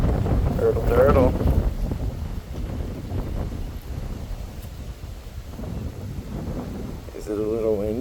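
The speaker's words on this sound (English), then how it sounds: "Is it a little windy?" Wind buffets the microphone on a windy morning beside a backyard turtle pond, a steady rumbling gust throughout, with someone speaking briefly at the start and end.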